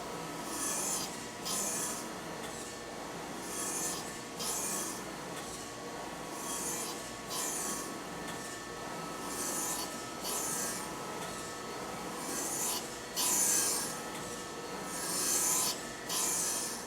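A surface grinder works a 24-inch steel parallel, giving a steady rasping grind with a regular rhythmic sweep every second or so as the table travels, over a constant low machine hum.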